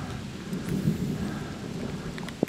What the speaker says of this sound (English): Well, I hope this rain stops.